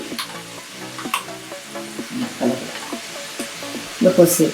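Gavvalu, small shell-shaped sugar or jaggery sweets, deep-frying in hot oil until golden brown, with a steady low bubbling sizzle and light stirring clinks, plus a louder burst of crackling near the end.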